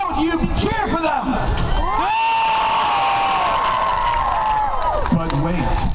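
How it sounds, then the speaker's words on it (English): Crowd at a medieval faire cheering loudly for a jousting team, a sustained roar of whoops and shouts from many voices that swells for about three seconds between stretches of an announcer speaking over a loudspeaker. "How do you cheer for them?"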